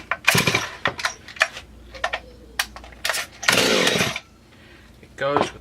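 A Stihl MS360 chainsaw is being started with the choke on, heard as close, loud bursts of pull-cord rasps and sputtering attempts, followed by one brief roar of the engine catching.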